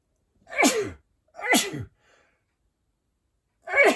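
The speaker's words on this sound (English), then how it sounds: "I'm going to sneeze again." Three loud, close sneezes from one person, two in quick succession and a third after a pause, with silence in between.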